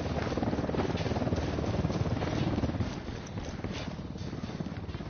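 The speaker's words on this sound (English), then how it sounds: "We need that chopper." A helicopter in the Tokhang Mode video game drones steadily and loudly throughout, its dense rotor rumble and buzz holding close with a slight dip midway and no voices over it.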